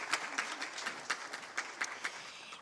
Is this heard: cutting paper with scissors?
no